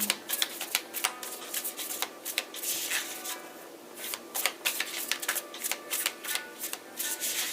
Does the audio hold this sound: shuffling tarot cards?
yes